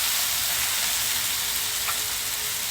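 Chicken liver and tomato hit a hot pan and sizzle, with a steady broadband frying hiss running the whole time and no talking.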